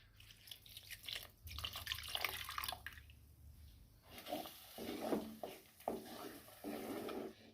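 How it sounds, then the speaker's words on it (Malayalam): Water poured from a rinsed mixer jar that held ground coconut into a fish curry, giving irregular splashing and trickling bursts with drips in between, fairly quiet and with no talking. "ഇനി നമുക്കിതിലേക്ക് തേങ്ങ അരച്ച മിക്സിയുടെ ജാറ് കഴുകിയ വെള്ളം അങ്ങോട്ട് ഒഴിച്ചു കൊടുക്കാം"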